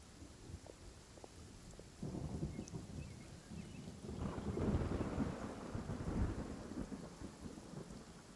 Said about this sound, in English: The rain is messing up with my computer.